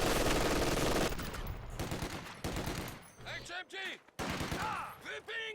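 Gunfire and explosions from a WWII strategy video game match: loud bursts of gun and weapon fire crackle and boom in a dense battle mix, with a brief quieter stretch partway through and no speech heard.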